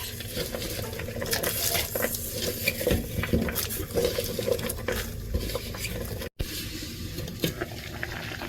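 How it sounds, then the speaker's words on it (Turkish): Water bubbles and patters steadily in a pot as chopped thistle stems boil, with occasional clinks of a utensil stirring, close up and continuous. "Doğradığımız diken saplarını kaynamaklı olan suya atıyoruz arkadaşlar."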